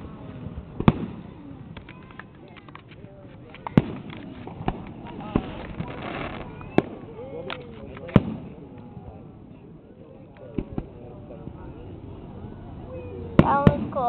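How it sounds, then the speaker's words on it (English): Cartoon fireworks in the Webkinz video game go off as a series of sharp, scattered pops and crackles over quiet background, with children talking between the bursts. "Mom has fireworks."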